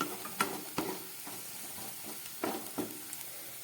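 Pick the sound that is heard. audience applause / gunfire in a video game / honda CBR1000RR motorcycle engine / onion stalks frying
onion stalks frying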